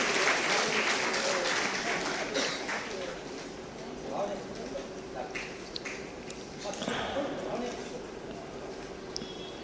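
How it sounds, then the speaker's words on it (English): An audience at an awards ceremony during a festival applauds, a sustained, fairly loud wash of clapping that gradually thins, with some voices underneath. "Give her a round of applause."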